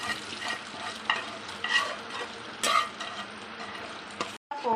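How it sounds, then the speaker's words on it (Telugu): Tempering is stirred into pongal in a pot, a close scraping and gentle sizzling with several louder spoon strokes against the metal, ending in a brief silence and one more scrape. "పోపు వేసేసుకొని బాగా మిక్స్ చేసేసుకోవాలి"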